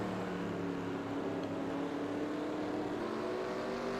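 Race cars running a bullring series heat race at Spencer Speedway, a continuous dense engine drone with rising and falling pitch as the pack circles, loud and unbroken.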